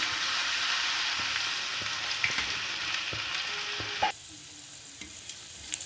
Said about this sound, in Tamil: எண்ணெய் நல்லா காஞ்சதும் நம்ம மசாலா போட்டு வச்சுருக்கிற அந்த காலிஃப்ளவரை எடுத்து பொறிச்சு வச்சுக்கிடணும்